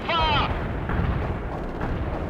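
APC cannon fire in the video game World in Conflict, with heavy booming bursts rolling under continuous battle noise and a short radio-like voice at the start.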